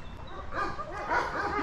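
Dog whimpering and yipping with small barks in a litter setting among puppies, several soft high-pitched cries in quick succession, close and moderately loud, with no talking over it.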